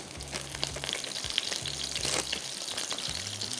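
A chicken burger patty sizzles gently in a pan over low heat, a soft continuous frying hiss with faint crackles, heard quietly alongside a low background hum.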